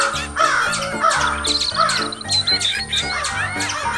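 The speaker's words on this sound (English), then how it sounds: "said a blackbird as he flew past" Cartoon blackbird calling as it flies past, a run of loud harsh caws repeated in quick bursts over about four seconds, close and clear with no talk.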